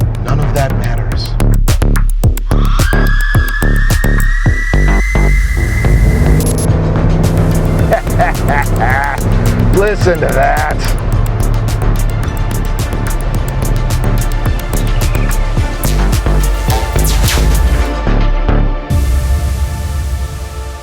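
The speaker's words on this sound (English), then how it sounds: "when you hear the 350 brake horsepower turbojet V8, none of that matters" A 350 brake horsepower turbocharged V8 car engine runs loud and throbbing close by, with revs rising and falling while people talk over it throughout.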